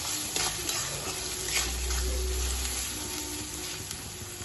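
Chicken masala sizzles and fries steadily in a pan as coriander powder is stirred in for Odia-style chicken kassa, a dense continuous hiss close by with no talking.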